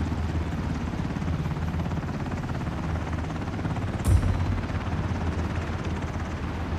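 Helicopter in the Ring of Elysium battle-royale game, a steady, loud rotor drone that fills the scene throughout, with a brief thump partway through.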